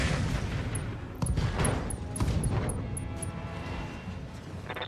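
Mech weapons firing in the Roguetech battle game, lasers and Gauss rifles letting off a volley of sharp cracks and thumps amid a busy bed of battle noise, moderately loud.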